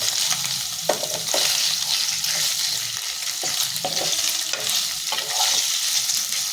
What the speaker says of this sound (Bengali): হালকা করে ভাজবো, খুব বেশি ভাজা নয়।